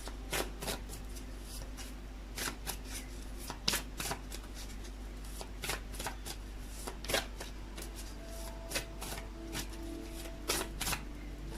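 Tarot cards being shuffled during a reading, a quick run of crisp riffles and slaps that recur in bursts, close and clear, with no talking.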